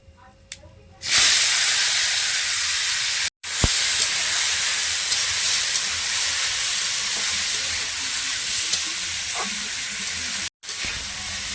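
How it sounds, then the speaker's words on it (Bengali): Rice fries in hot ghee with cardamom and cinnamon for Basanti pulao, giving a loud, continuous close hiss and sizzle that starts suddenly and runs steadily, briefly cut out twice. "একটু ভালো করে ঘিয়ে ভেজে নিচ্ছি"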